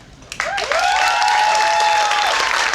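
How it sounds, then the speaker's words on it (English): A live podcast audience in a theater breaks into applause that swells quickly and holds steady and loud, with cheering voices rising above the dense clapping. "Applause for comedy."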